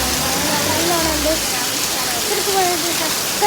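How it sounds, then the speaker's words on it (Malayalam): Heavy rain pours outdoors on the way to a hospital, a steady, dense hiss running throughout while a person talks over it. "ഇവിടെ നല്ല മഴയാണ്"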